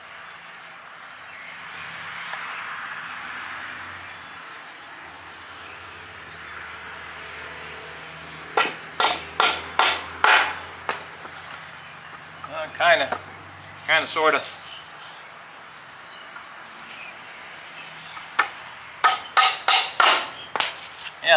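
Sharp hammer blows strike wood in quick bursts of several hits each, with a short spoken remark in between.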